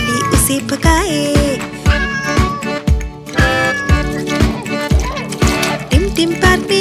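Cartoon cat meows within a bouncy Hindi children's song about a monkey and a cat playing in a park, the mews rising over steady music and sung vocals with a regular beat.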